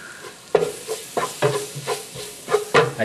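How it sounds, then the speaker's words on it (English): Ginger and garlic fry in a pot with flour and onion, sizzling steadily while a utensil scrapes and stirs in a series of distinct, rhythmic strokes, no talking. "Then we add in some ginger and garlic."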